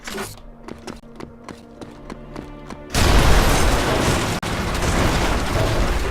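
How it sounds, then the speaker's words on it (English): Remote charges detonate in the PC game Red Faction Guerrilla Remastered: a few sharp mechanical clicks and taps, then a sudden loud blast that rolls into a sustained, dense roar of rumbling debris. "Right now you can set 2 charges before you detonate them."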